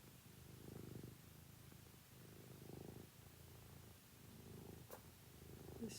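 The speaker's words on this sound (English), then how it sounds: "The sound of her purring." A cat purring while breathing gives a soft, low rumble that swells and fades in about four slow cycles, close and quiet, with a faint click near the end.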